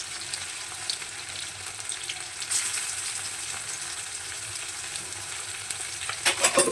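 Chicken mince with chopped green chilli sizzles steadily in a hot pan while a cutlet mixture with banana flower is prepared, a dense bright hiss that grows a little louder with clattering stirring near the end.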